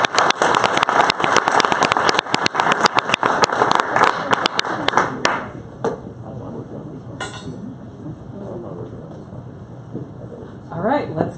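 Applause and clapping from an audience at a coding bootcamp final project demo night, dense and loud for about five seconds before fading into scattered claps and room murmur.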